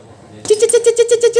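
A human voice imitates the squeaking CVT of a Honda Vario 110 scooter with a quick run of rhythmic, high-pitched chirps, about eight close squeaks in a steady beat following a brief quiet lead-in.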